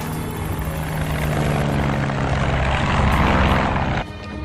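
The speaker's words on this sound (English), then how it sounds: "This plane will get you to where you need to go." Propeller airplane flying, a steady loud engine drone with broadband rumble that holds for about four seconds, then dips slightly near the end.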